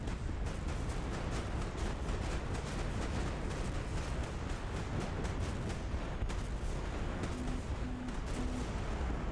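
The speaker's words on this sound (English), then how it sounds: "zapped that missile with fucking 57 as it came off the rail" Rapid, continuous automatic cannon fire from a 57 mm gun aimed at a missile in the naval-air strategy game Highfleet, a dense rumbling barrage of shots running steadily throughout with no talking.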